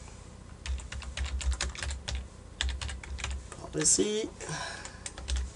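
Brisk clacking of a computer keyboard while HTML is edited, bursts of keystrokes with short gaps, close and clear, with a brief spoken word partway through.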